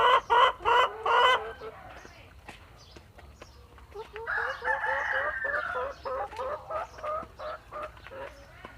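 Laying hens on a farm cluck in bursts while a rooster crows, close and fairly loud, with a person talking in between.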